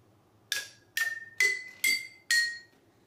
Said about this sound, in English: we need to take the wooden stick and we need to strike the each glass and listen the sound